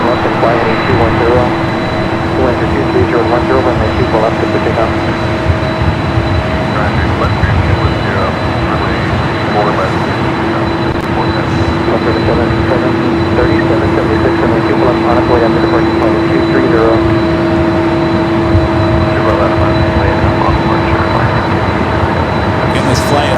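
A jet aircraft at Los Angeles LAX airport gives a loud, steady, unbroken roar, while radio voices talk over it.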